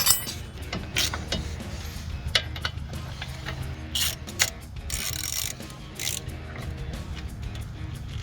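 A ratchet tightens the caliper bracket bolts on a 2007-2018 Chevrolet Silverado 1500 pickup, giving steady rapid clicking with sharper bursts over a low background hum, close and moderately loud.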